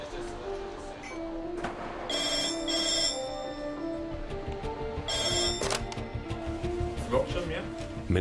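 A telephone rings in bursts at an East Anglian Air Ambulance base, bright electronic trills sounding twice with a pause between, while people talk and a narrator's voice runs underneath.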